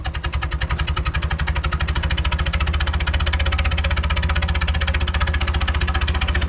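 A new Mahindra 575 tractor engine revs steadily and close by, a loud, even, rapid diesel thumping that holds a constant rhythm throughout.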